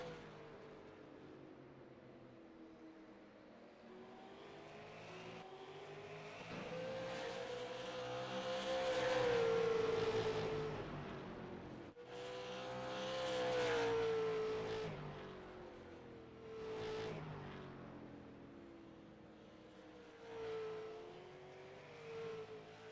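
Super late model race cars roar around a dirt track, engines droning and swelling as the pack passes, with rising and falling revs over a steady rumble and no talk.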